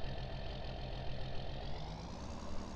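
A tractor engine in Farming Simulator 19 runs steadily under load while baling, a continuous droning rumble with a slowly rising tone as the throttle opens, loud and close with no voices.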